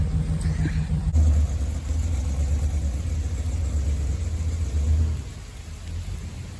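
Engine of an abandoned Suburban truck idling after sitting for 13 years with a new fuel pump, a steady low rumble close by that drops lower near the end, with no talking.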